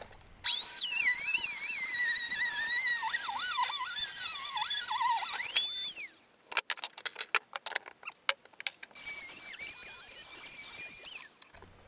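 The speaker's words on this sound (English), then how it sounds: "I'm rigging this contraption to hold my Dremel perfectly flat as I cut the pipe lower." A high-pitched Dremel rotary tool whines and screeches as it cuts copper pipe, with pitch wavering under load, then stops and starts again after a pause of clicks.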